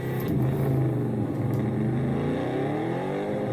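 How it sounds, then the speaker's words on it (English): Australian V8 Supercar engines rumble loudly and steadily, a deep sustained roar with shifting revs and no voices over it. "the sound of the motors, the sound of the car, just that rumble is beautiful"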